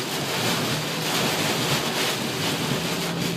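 Heavy rain and strong wind gusts roar steadily around a car driving on a toll road during a storm, a loud, dense wash of noise with no break.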